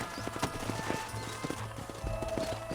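Horse hooves clip-clop in Red Dead Redemption, rapid and fairly quiet, running in a steady rhythm with a faint whinny-like tone and game ambience behind.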